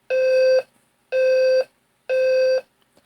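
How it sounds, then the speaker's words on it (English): A Simplex 4003 fire alarm panel sounds a code 3 signal: three identical loud electronic horn tones, each about half a second long, spaced evenly about a second apart, with nothing else audible. "Here's the simplex code 3 from the 4003 panel"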